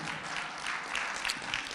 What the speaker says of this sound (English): Go ahead, give me a round of applause.